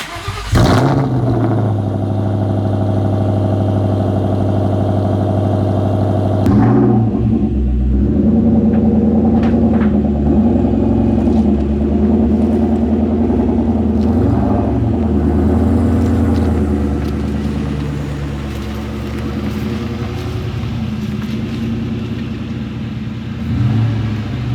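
A 2003 Ford Mustang Cobra engine starts and idles loudly up close with a steady, heavy rumble, then settles into a fluctuating idle as the car is pulled out.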